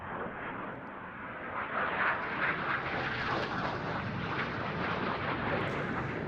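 Spanish Navy EAV-8B Matador II+ Harrier jet in a solo flying display at RIAT 2024, a loud, steady broadband jet roar that swells slightly midway and holds strong throughout, with no talk.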